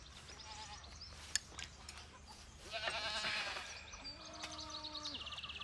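Goats bleat in the open, roaming free on an island, with a few short calls rising over a quiet outdoor background and faint bird chirps.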